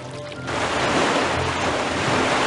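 A sudden steady rush of falling water, like a shower turned on, in the video game Pajama Sam 4, starting after a brief moment and continuing loudly without pause.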